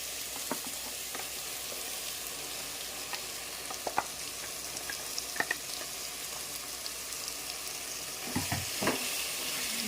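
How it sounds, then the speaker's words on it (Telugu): Brinjal pieces coated in ground masala sizzling over a medium flame, a soft continuous fry broken by intermittent spoon scrapes and clinks, heaviest toward the end. "బాగా కలిపేసి మళ్ళీ కొంచెంసేపు ఫ్రై చేద్దాము."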